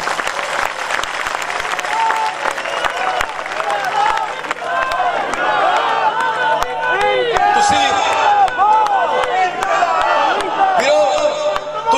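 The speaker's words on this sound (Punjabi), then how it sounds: "ਇੱਕ ਵਾਰੀ ਜ਼ੋਰਦਾਰ ਤਾੜੀਆਂ ਮਾਰ ਕੇ ਸਾਡੀ ਟੀਮ ਦਾ ਹੌਸਲਾ ਵਧਾ" Loud, sustained applause from a large crowd at a political rally in Punjab, a dense wash of clapping over about twelve seconds with faint cheering and voices mixed in.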